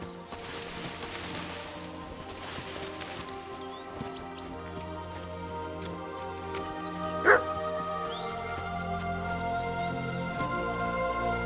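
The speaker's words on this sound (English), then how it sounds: "Barking." Dog barking in the video game Kingdom Come: Deliverance II, a single sharp bark standing out briefly over a steady bed of game music and ambience.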